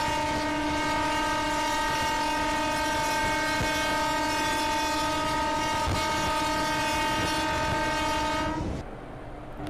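The rear warning horn of an EMU local train in the Open Rails simulator, on the Sealdah–Dankuni route, blares as one loud, sustained, steady chord-like tone for about nine seconds, then cuts off, leaving quieter cab ambience.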